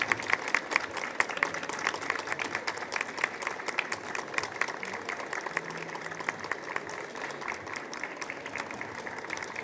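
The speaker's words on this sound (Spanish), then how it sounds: "yo los invito a hacer un minuto, pero un minuto de aplauso" An audience at a book launch at the 2025 Bogotá book fair keeps up sustained applause for Pope Francis, a continuous crackle of many hands at moderate distance, fairly soft and even.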